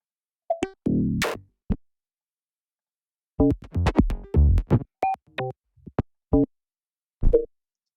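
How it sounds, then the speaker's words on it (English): Sparse electronic synth hits and blips in a looping pattern, with a short tonal burst early, then clustered plucky percussive tones and gaps of silence. "These modular loops are some of the best modular loops I've heard in quite some time"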